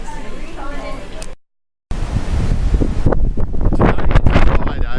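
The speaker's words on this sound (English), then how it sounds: "as you can see, it's a little windy" Strong wind buffets the microphone on the open deck of the Diamond Princess cruise ship at sea in the Bass Strait, a loud, continuous roaring rumble with a brief dropout, after a moment of voices at the start.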